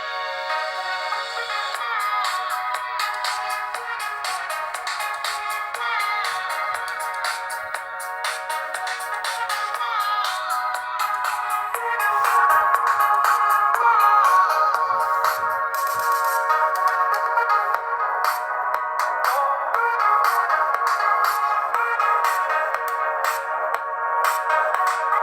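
A cheap $14 AliExpress smartphone plays a ringtone-like tune loudly through its small speaker, a thin, tinny melody with no bass, continuing steadily for about twenty-five seconds.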